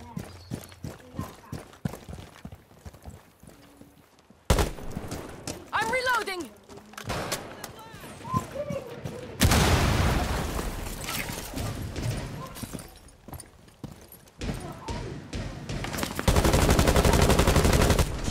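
Gunfire rips through a wall during a Rainbow Six Siege match, rapid bursts of shots in several loud stretches mixed with game effects and excited talk.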